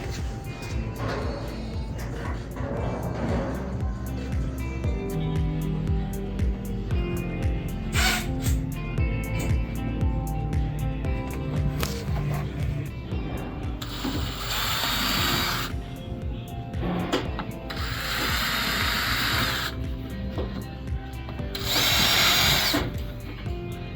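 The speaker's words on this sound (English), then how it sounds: "I'm going to actually drill into the bracket." A power drill whirs and grinds in several bursts, drilling into a metal door bracket on a Ford Transit van, with ratcheting mechanical clatter and a high metallic screech as the bit bites in, close up.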